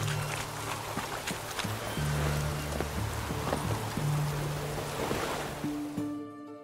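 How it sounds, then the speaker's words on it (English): Rain falls in The Witcher 3: Wild Hunt as a steady, even hiss with low, soft game music tones humming beneath it, then cuts off abruptly near the end. "It's raining"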